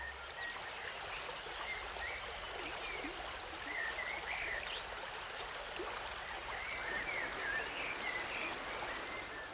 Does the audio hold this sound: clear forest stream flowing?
yes